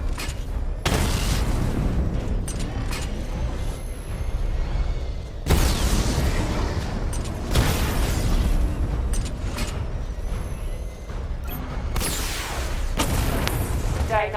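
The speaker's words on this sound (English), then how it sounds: "activate missile barrage" Missile barrage from the Batmobile in Arkham Knight sets off a series of heavy booming explosions, several big blasts spaced a few seconds apart over a continuous rumbling background.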